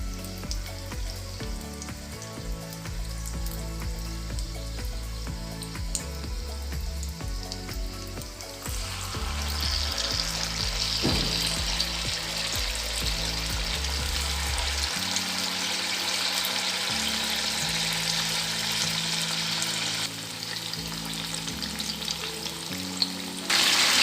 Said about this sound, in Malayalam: അടുപ്പത്തൊരു പാൻ വെച്ച് ഓയിൽ ഒഴിച്ച് മൊരിയിച്ചെടുക്കാം.